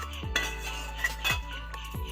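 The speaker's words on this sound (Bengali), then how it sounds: "এবার ঢাকাটা খুলে নেব।" A lid comes off a pot of an egg and soybean curry with boiled potatoes, making a few light metallic clinks and scrapes over a quiet kitchen background.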